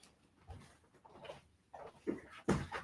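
A dog whimpers softly in a home setting, several faint whiny yelps and snuffles rising in intensity toward the end, heard up close over light background noise.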